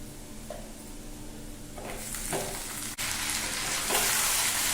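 Chicken pieces frying with lightly browned onions in a pan: a loud, constant sizzle that swells louder partway through, with soft stirring scrapes and no voices.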